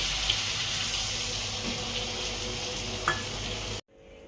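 Sizzling chilli chicken in a hot pan as a water-mixed cornflour slurry is stirred in, a loud continuous frying hiss with a few scraping knocks, cutting off abruptly near the end.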